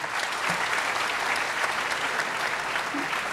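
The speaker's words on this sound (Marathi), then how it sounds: "एकदा या सगळ्यांसाठी टाळ्या वाजवूया." Audience applause at a live stage event fills the whole stretch as steady, dense clapping from a sizeable crowd, close and even in loudness from start to finish.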